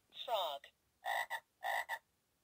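Two close, loud frog croaks, each a short double-pulsed rasp, preceded by a higher warbling call; quiet gaps between.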